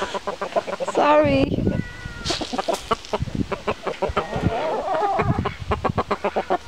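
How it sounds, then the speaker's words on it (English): Chickens cluck and squawk close by in a busy, overlapping chorus, with a person speaking briefly among them. "Yeah, you guys are happy chickens, aren't you?"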